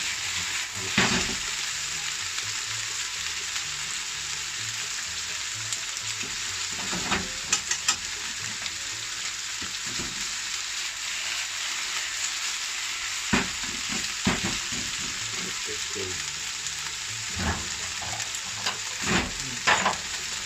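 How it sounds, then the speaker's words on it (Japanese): Mushrooms and chicken breast frying in a pan, a constant close sizzle broken by repeated scraping and clattering stirs, with no voices. "ちょっとキノコに火が通んないんで混ぜてやりましょうか。"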